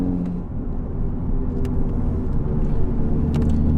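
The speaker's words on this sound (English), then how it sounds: "one of the bad parts about this car though is road noise." Road noise inside a moving Nissan 370Z, a steady low tyre rumble and drone with some engine hum. It is continuous and fairly loud, and no one talks over it.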